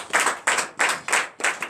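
A congregation at a night deliverance service claps in unison, with five or six loud rhythmic bursts of hand claps close by and no talking between them.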